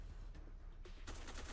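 Rapid bursts of gunfire in the Black Squad shooter game's PvE mode on hard, a dense crackle of shots that grows louder and busier toward the end.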